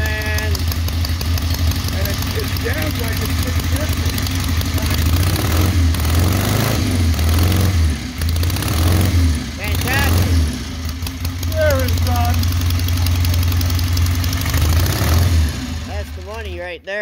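A 1980s Honda turbo motorcycle engine idles steadily and close by, a low continuous rumble with slight throttle variations, while people talk over it.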